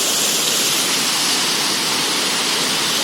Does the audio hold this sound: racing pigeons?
no